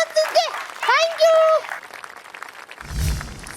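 Audience clapping for a child on a Tamil children's TV show, a short burst that comes in after a voice speaks near the microphone.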